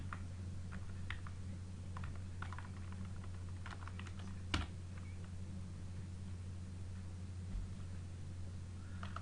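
Computer keyboard keys pressed while typing Hindi with the NVDA screen reader, scattered irregular clicks over a steady low hum, one sharper keystroke standing out midway.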